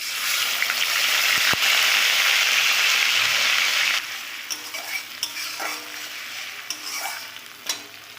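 Onion paste hits hot oil with black cumin and erupts into a loud, dense sizzle for a few seconds. It settles into a softer crackle broken by scattered sharp pops and spatters while the paste fries for koi fish curry.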